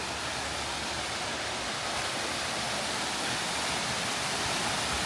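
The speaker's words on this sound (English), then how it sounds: "look at that beautiful waterfall." Steady, loud roar of falling water at the base of Seven Falls in Colorado Springs, a continuous broadband rush with no pauses and no voices over it.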